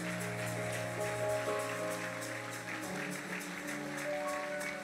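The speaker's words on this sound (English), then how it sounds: "Put your hands together for them. Don't stop clapping." Steady rapid clapping from a large church service congregation, dense and continuous, over sustained music tones.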